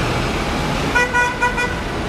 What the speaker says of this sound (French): ça m'a plus manqué des petits klaxons